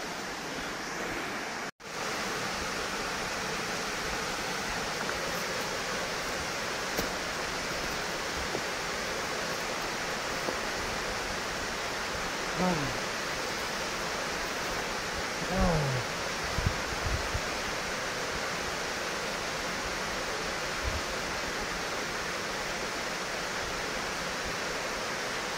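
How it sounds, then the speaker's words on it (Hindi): A jungle waterfall on a trek in Goa roars as a steady, even rush of falling water, with faint brief voices and a few scattered sounds above the constant wash. "ये है वाटरफॉल"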